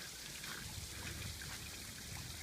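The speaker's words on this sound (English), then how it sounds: "you reach a couple of these waterfall type things" A small waterfall on a hiking trail toward Christ the Redeemer gives off a steady, faint rush of flowing water that continues evenly throughout.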